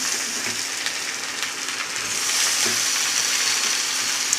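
Eggplant frying in hot oil, producing a continuous hissing sizzle with soft crackles, steady and moderately loud with no talking.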